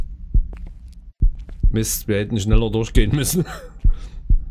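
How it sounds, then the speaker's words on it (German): Heavy, regular heartbeat thumps pulse throughout a tense moment in the horror video game Precipice, sounding near and loud, with a voice talking over the middle stretch between beats. "das ist ein Puls"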